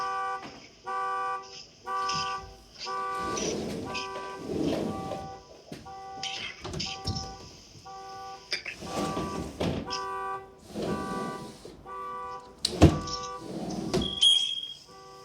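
A car alarm and horn blare outside during a vehicle repossession, sounding in repeated tonal honking bursts with short gaps between them, loud and persistent over about fifteen seconds.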